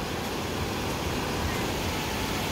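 Ocean surf breaking off Kona on Hawaii Island, a steady, broad wash of roaring water with wind noise, loud and continuous and with no distinct individual crashes.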